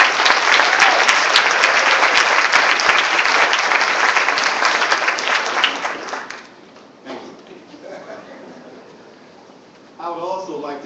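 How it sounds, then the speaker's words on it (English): An audience at a community awards event breaks into loud, sustained clapping that fades after about six seconds, leaving scattered claps and a voice speaking over a quieter room at the end. "I would like you to give these people a round of applause."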